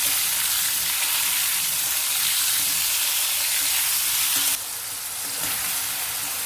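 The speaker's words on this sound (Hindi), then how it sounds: "अब इन आलूओं में हम पहले थोड़ा सा नमक ऐड कर देंगे, ऐसे मिला लेंगे इसको" Potatoes sizzle and fry steadily in a hot pan with a little salt for Sindhi dry methi aloo, stirred continuously, close and loud, with a brief scrape and dip in the sizzle near the end.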